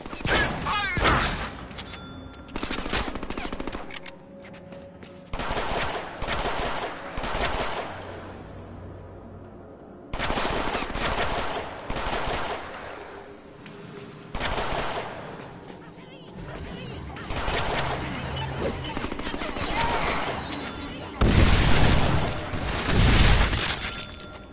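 Machine-gun fire from the Deadpool video game, with sustained bursts of rapid shots repeating across the stretch, loud and close, punctuated by short pauses and mixed with game voices and effects.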